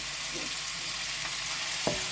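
Three kilograms of lamb sizzles in a cast-iron pan, giving a steady hissing fry with a faint clink near the end.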